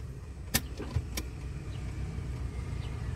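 Idling engine of a boxy Suzuki Karimun held steady while the gearbox is shifted into reverse, a low continuous rumble with a couple of brief clicks and knocks from the shifter early on.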